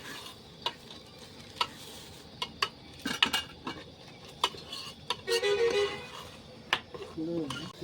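Egg and tomato curry being stirred in a pot, cooked in a parked bus in Chirala, with metal spoon scrapes and clinks at irregular intervals, a soft sizzle underneath, and voices talking nearby.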